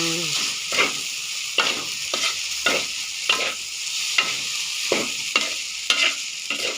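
Rice with salted fish being stir-fried in a pan, a steady sizzle broken by regular scraping strokes of the spatula about every half second, close and fairly loud, with no talking.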